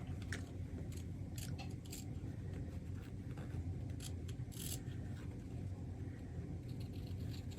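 Sharp scissors snip through fabric in a run of quick crisp cuts, close and fairly quiet, scattered over steady low background noise.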